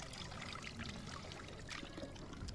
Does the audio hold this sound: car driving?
no